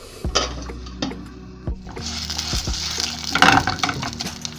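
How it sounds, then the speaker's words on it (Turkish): A spoon scrapes and clanks against a pot while orzo vermicelli is stirred and roasted, with sharp metallic knocks, a soft sizzle and a burst of clinking near the end. "Bir yemek kaşığı kadar da arpa şehriye ilave edip güzelce kavuracağım."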